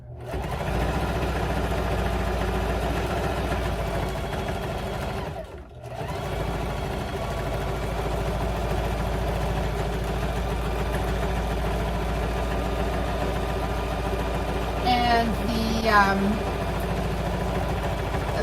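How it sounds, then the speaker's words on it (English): Sewing machine running steadily as it stitches a nursery rug with 40-weight polyester thread, a continuous motor hum with a brief dip midway and faint clicks near the end. "for sewing these exact rugs, I use this exact machine"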